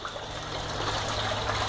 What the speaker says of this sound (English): As you can see, the pipes dripping into the tanks.